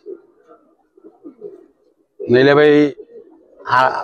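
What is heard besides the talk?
Giribaz pigeons cooing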